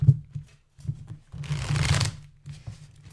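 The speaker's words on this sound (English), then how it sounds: "Shuffling the cards for Rhonda." Tarot cards are shuffled in soft riffling bursts, a longer flurry in the middle between short quieter shuffles, close and alone.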